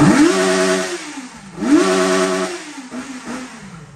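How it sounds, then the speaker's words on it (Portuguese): A Yamaha XJ6 motorcycle fitted with a sport air filter and a stock exhaust revs close by, its engine note rising sharply twice into loud throaty roars and then falling back, with a smaller third blip near the end and no talk. "Por isso que esse barulho, você vê que já dá um ronco esportivo."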